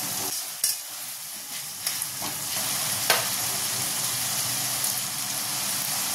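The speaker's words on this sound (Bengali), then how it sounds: "এবার এর মধ্যে দিয়ে দেবো বাটা মশলা। বাটা মশলা বলতে আদা, রসুন, টমেটো আর কাঁচা লঙ্কা।" A ground paste of ginger, garlic, tomato and green chilli is added to chopped tomato frying in a pan, hissing with a steady loud sizzle and a few sharp clinks of stirring.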